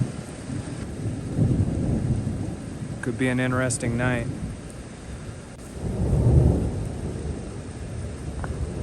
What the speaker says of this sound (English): Thunder's booming.